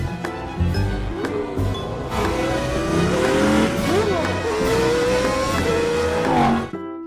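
Animated race cars from the 2011 film Cars 2 racing at Radiator Springs, loud engines revving and accelerating with rising and falling pitch, tire squeals and cars passing close, under a busy mix that may include voices.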